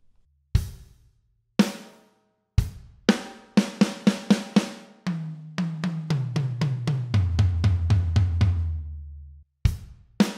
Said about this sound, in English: Halfway through the verse, there's a different fill once again, and it sounds like this.